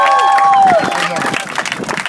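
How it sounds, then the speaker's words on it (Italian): Crowd applause with scattered cheering, a brief whistle-like tone at the start, then steady clapping that gradually thins out. "facciamo un applauso a Pino"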